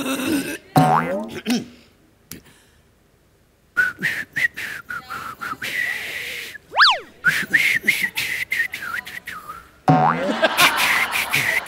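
A man attempts to whistle on stage at a comedy show, producing breathy airy blowing with a few thin whistled tones and a sliding pitch, broken up by pauses and short voice sounds.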